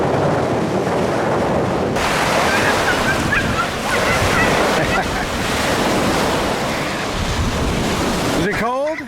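Surf washes steadily onto a beach in Yellowstone, a continuous loud roar of breaking waves with wind buffeting the microphone throughout and a brief knock near the end.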